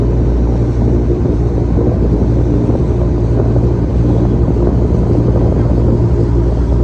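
A large farm tractor drives through deep floodwater in Nam Kham subdistrict, Sisaket, its engine giving a steady low rumble beneath continuous wind buffeting and watery wash, loud and unbroken throughout.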